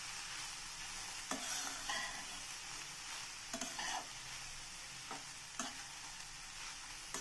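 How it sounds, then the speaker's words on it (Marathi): Grated carrot and coconut sauté in a pan for jaggery laddu, a faint, steady hiss with repeated scraping strokes of a spoon stirring at irregular intervals, quiet and close. "यालाही छान आपल्याला परतवून घ्यायचंय, छान मिक्स करून घ्यायचं दोन्ही।"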